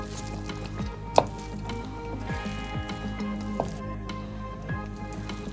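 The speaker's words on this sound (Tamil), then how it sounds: "இப்போ நம்ம இதை கலந்து விட்டுறலாம்." Noodles and chopped vegetables are being stirred together by hand in a bowl for noodle pakora batter, giving soft, wet squishing and slapping sounds with a few sharper clicks, close and steady, without speech.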